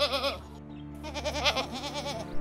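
A cartoon goat in an animated children's story bleats in two wavering, nasal calls with a short break between them, clear and close over a faint music bed.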